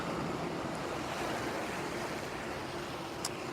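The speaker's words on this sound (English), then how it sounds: "bow wave right at the front of the ship" A ship's bow wave pushes water aside at the front of the vessel near the Portsmouth docks entrance, a steady rushing wash with wind buffeting the microphone.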